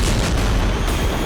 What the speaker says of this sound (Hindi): एंटी टैंक मिसाइल कैसे टारगेट के घर में घुसकर सटीक हमला करती है, यह जरूर इस वीडियो से साफ हो जाता है